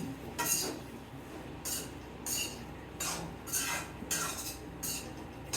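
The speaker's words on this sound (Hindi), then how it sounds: "अब डालती हूँ मैं हल्दी पाउडर। अब इसको थोड़ा सा और फ्राई करूँगी।" Turmeric powder frying in a home kitchen pan while a spoon stirs it, giving a steady rhythm of scraping, clinking strokes about once a second over a soft background sizzle.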